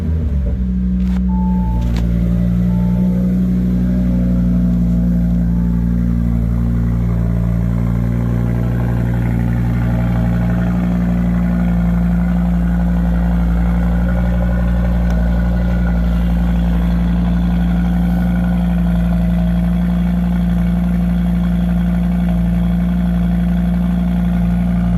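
A 2022 Audi RS3 8Y with an exhaust flap control valve module starts with a quick crank and then settles into a deep, steady idle rumble that stays loud and close throughout.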